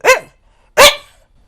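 A dog gives two loud, close barks about three-quarters of a second apart, each a short sharp burst, with silence around them.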